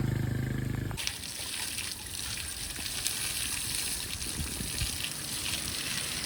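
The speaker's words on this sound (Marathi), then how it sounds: "आता इथं पाईप मोटर चालू केली" Steady water trickles and splashes continuously from a pump-fed pipe after a brief low pump motor hum at the start, moderately close with no talking, in a village during the Bail Pola festival.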